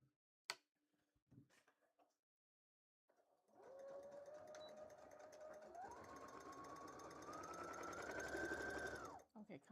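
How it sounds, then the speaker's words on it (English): A sewing machine stitches fabric for a cosplay costume, starting after a few soft clicks and handling noises, then running in a fast, steady whirring drone that speeds up in steps before stopping abruptly. "Sewing machine."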